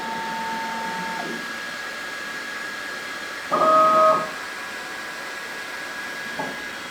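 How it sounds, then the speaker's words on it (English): A Bambu Lab X1 Carbon 3D printer runs its vibration calibration, sounding a steady tone, then a louder buzzing burst lasting under a second, then a fainter short buzz, over constant fan hiss. "during this calibration, it's going to try to shake this machine with different frequencies"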